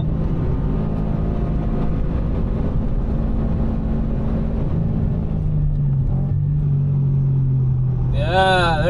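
Subaru BRZ track car on a Formula One circuit, its engine droning loud and steady in a close interior rumble, with rising whine near the end as it accelerates; a voice briefly talks over it.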